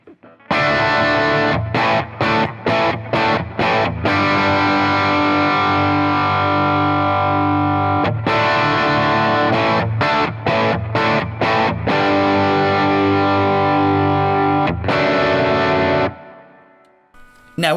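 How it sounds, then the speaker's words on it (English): A distorted electric guitar riff loops through a Boss Katana amp, repeating choppy rhythmic chords in stop-start bursts, loud and close, ending with a fade. "record a really simple riff into a loop pedal, and then we're going to play that riff via the loop pedal into the Katana"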